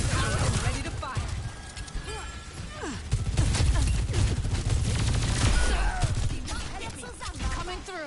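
Gunfire in the VR game Offszn while facing enemy turrets: dense, continuous volleys of rapid shots and crashing impacts, loud and close throughout, with voices mixed in.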